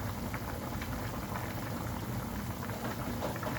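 Chayote simmers in chicken tinola soup in a covered pot, a steady close bubbling and gentle boil that continues without a break and without voices.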